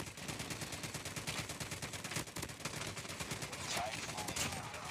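Rapid machine gun fire in the mobile shooter Call of Duty Mobile, a fast, steady stream of sharp shots with quieter, muffled talk beneath.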